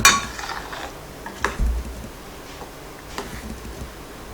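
A spoon stirs channa dal payasam in a pot with ghee-fried cashews and coconut, producing a handful of light metallic clinks and taps against the rim over a soft, quiet background.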